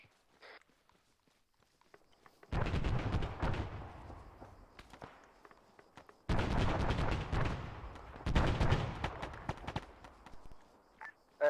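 Artillery barrage and gunfire in a military video game. Heavy blasts and rumbling bursts arrive in three loud clusters separated by quieter gaps, with sharp isolated cracks in between and no voices.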